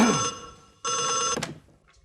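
A telephone rings in two electronic bursts, a short one and then a longer one, each a bright steady trill, followed by a brief clatter as the receiver is handled.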